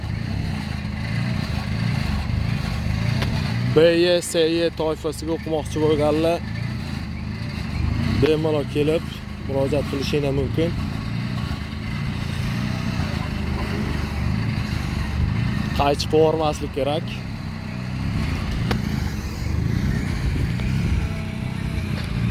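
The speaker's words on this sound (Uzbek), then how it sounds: "Mana ikkala avtomobilimiz ham ketishyapti" Driving-school cars, two of them, run laps on a practice course, giving a continuous low engine drone and occasional revving in the background while someone talks over it for much of the time.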